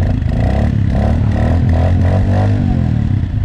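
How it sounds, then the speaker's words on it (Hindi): Motorcycle cold-start attempt after snow is cleared off the bike in a snowy valley: a loud, continuous, rough mechanical churning with a pulsing rhythm, close by, with no voices. "अभी फ़िलहाल बाइक से बर्फ़ हटा कर बाइक को एक कोल्ड स्टार्ट देकर देख रहे हैं कि बाइक स्टार्ट भी"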